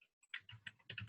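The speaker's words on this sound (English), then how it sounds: "I was just typing an answer to someone else." Faint, irregular keystrokes on a computer keyboard during a coronavirus webinar, a short run of soft clicks in an otherwise quiet room.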